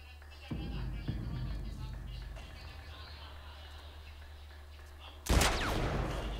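One loud sniper rifle shot cracks out near the end of a video game scene, its blast trailing off over a low, steady game background.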